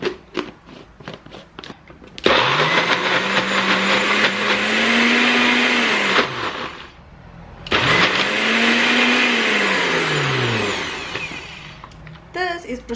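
A blender whirs loudly through meal prep ingredients with added liquid, running about four seconds, pausing briefly, then starting again for a second run, its motor pitch sliding up and settling; scattered knocks bracket the bursts.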